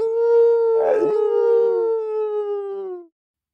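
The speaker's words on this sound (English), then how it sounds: "A wolf, good." A single drawn-out howl, steady and tonal, sliding slowly downward before cutting off, with a brief rougher burst near the start.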